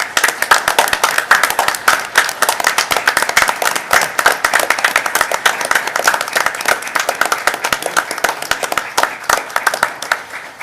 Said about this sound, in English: I just want to applaud them right now